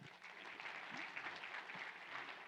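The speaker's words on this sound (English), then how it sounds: "Round of applause." A conference audience of professionals applauds with soft, fairly distant clapping that stays even and faint for a couple of seconds.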